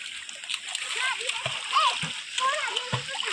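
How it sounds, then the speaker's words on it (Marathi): A child splashes in the water while swimming at a dam in Konkan. Steady splashing and sloshing run throughout, with children's voices calling over the water. "देवांश आता गेलेला पोहायला."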